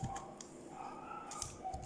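Keystrokes on a computer keyboard during 3D modelling work in Blender, a few quiet scattered clicks close by with no talking.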